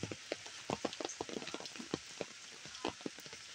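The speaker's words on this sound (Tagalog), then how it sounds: "ang lakas ng ulan guys. Kasi may bagyo sa amin." Heavy storm rain, close and uneven, with many sharp drops and splashes striking a surface in irregular bursts over a faint steady wash, no speech.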